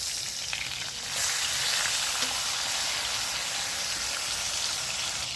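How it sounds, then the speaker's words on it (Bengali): Chopped tomato hits hot oil in a pan and sizzles loudly, the frying hiss swelling after a second and then holding steady and close with no talk. "তো ওই তেলের মধ্যে আমি দিয়ে দিচ্ছি টমেটোর কুচি,"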